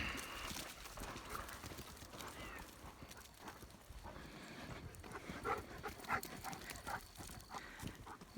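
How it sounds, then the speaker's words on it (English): An old dog laps water outdoors, a quick rhythmic run of soft wet slurps under steady background noise. "Dog's getting them a drink."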